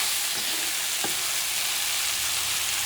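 Shrimp sauce with chopped chives simmering in a pan, a steady close sizzle with a couple of faint spoon scrapes, no voices.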